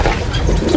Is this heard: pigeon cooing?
yes